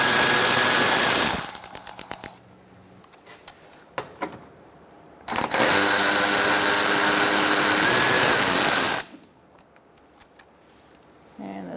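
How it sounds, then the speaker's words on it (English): A 10 mm socket wrench backs out a bolt while replacing the radiator on a 2004-2009 Mazda 3, with two long, loud stretches of steady close-up whirring separated by quieter ticks and clicks. "I'm going to use a 10 millimeter socket to take out this bolt"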